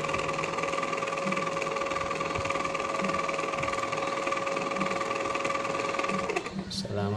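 A chocolate fountain's small motor whirs continuously with a steady hum and faint rhythmic knocking, then briefly falters near the end.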